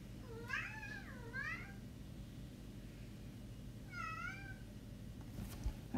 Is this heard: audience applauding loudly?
no